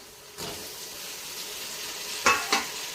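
Tomatoes sizzle and fry in a pot for mutton dum biryani, a soft steady hiss broken by a few brief stirring scrapes near the start and end.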